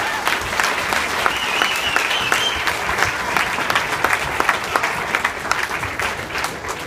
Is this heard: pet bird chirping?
no